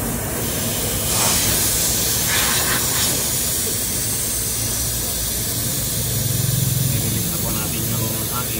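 A vacuum pump evacuating the air conditioning system of a 2020 Mitsubishi L300 drones on with a continuous loud mechanical hiss and hum for several seconds, with a voice briefly audible over it.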